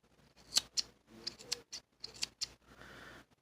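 Scissors snip close by in a quick series of crisp metallic cuts, several sharp clicks spaced unevenly with quiet gaps between, cutting material for a Sahara RDA vape atomizer.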